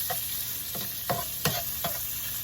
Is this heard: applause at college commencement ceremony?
no